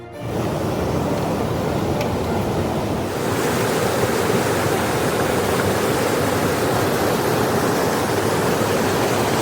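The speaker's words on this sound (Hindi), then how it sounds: "जल्दी जल्दी अपना वाटर कैन भरते हैं और चलते हैं कैंप की तरफ" A mountain stream rushes at night on the Manimahesh Kailash trek as a water can is filled, a loud, continuous broadband roar of flowing water close to the microphone, unbroken throughout.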